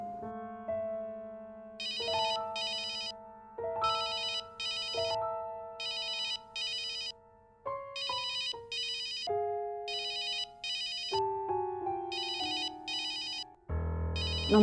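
A mobile phone ringtone plays alone, a bright electronic melody of repeating short phrases ringing through several cycles, fairly loud and close, with no talk over it.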